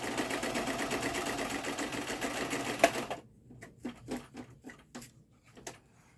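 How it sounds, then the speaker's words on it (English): Sewing machine stitching down a paper tag: a steady, close mechanical whir with rapid stitching chatter for about three seconds, then stopping, followed by a few soft handling taps and rustles. "Let me just stitch this one down real quick."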